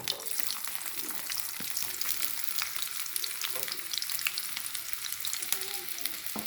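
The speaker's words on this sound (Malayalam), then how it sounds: "അപ്പോൾ നമ്മൾ എണ്ണ ചൂടായിട്ടുണ്ട് ഇനി അതിലേക്ക് നമുക്ക് ചെറുള്ളി അരിഞ്ഞ് ഇട്ട് കൊടുക്കാം" Chopped shallots fry in hot oil for a fish curry, giving a steady, close, crackling sizzle with occasional stirring scrapes throughout and no talking.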